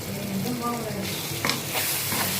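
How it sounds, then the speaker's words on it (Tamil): Onion and tomato sautéing in a pan for a Tamil pakkoda kuzhambu, a steady broadband sizzle with a few spoon-stirring scrapes and clinks, close and moderately loud, no voices. "இப்போ பாருங்கள், நம்ம வெங்காயம் தக்காளி நல்லா வதங்கிடுச்சு."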